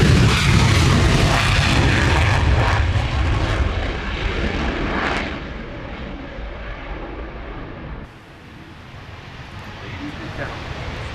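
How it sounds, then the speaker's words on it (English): A United States Air Force F-22 jet roars past at the Royal International Air Tattoo airshow, loud at first and then fading into the distance as the engine noise recedes. "I present to you the United States Air Force F-22."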